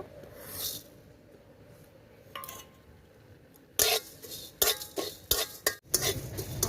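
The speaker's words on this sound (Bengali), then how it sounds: "মশলাগুলো অনবরতভাবে নেড়ে নেড়ে আমি ভেজে নিয়েছি" Whole spices, including panch phoron, dried red chillies, bay leaves, fennel, cumin and coriander, are dry-roasted in a dry wok and stirred constantly, with a faint low rustle followed by sharp metallic scrapes and clinks of the spatula against the pan.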